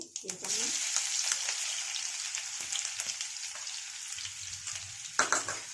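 Garlic and cumin seeds fry in hot oil for a garlic-fenugreek dish, giving a loud, continuous close sizzle with scattered pops and crackles throughout.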